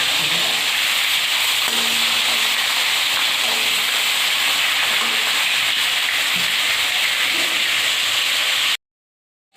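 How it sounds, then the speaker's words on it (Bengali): Fish frying in oil until browned, an even loud sizzling hiss that continues steadily with faint crackles and occasional soft clinks, then cuts off abruptly into silence near the end. "মাছটা একটু লাল লাল করে ভাজবো"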